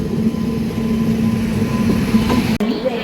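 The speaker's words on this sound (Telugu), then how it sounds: "ఏదో ట్రైన్ పోతుంది పక్కన" A train rumbles past close by, alongside a train near Secunderabad railway station, a low continuous roar with faint rail clatter, and a voice speaks briefly over it.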